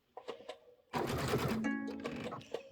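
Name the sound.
sewing machine stitching fabric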